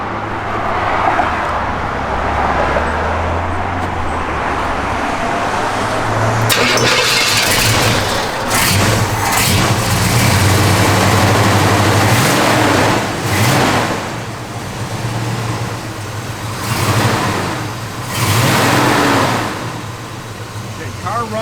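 A 1970 Buick GS Stage 1 engine cranks and catches, then settles into a loud idle broken by several heavy revs that surge and fall back, with a person speaking briefly over it.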